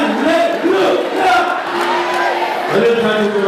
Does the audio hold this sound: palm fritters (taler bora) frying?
no